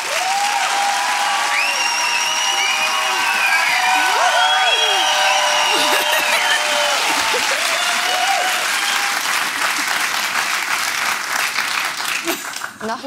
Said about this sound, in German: Einen großen Applaus für die...